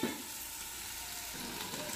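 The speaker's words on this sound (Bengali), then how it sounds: "এখন এই যে পনিরটা এটা দিয়ে দিচ্ছি। আর একটু ঢাকা দিয়ে দিব।" Paneer goes into a curry of okra, potatoes and beans frying in a pan, giving a steady, even sizzle with soft stirring that holds for the whole span.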